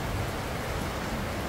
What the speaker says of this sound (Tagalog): At pagmasdan ang pagpatak ng ulan dito sa Carmona